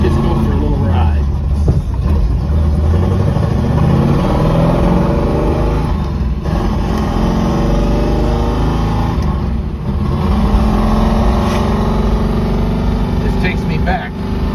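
A 1969 Chevrolet Camaro Z/28 with a rebuilt transmission pulls away on a drive, its loud engine roaring and revving continuously up close over road noise.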